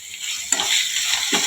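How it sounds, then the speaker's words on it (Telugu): Tempering for mango pulihora sizzling and frying in hot oil in a pan, a steady close crackle with brief louder bursts as the spices are stirred. "కొంచెం వేగాలి, వేగితేనే ఆ నూనె అలా మంచిగా వేగితే టేస్ట్ మంచిగా ఉంటుంది"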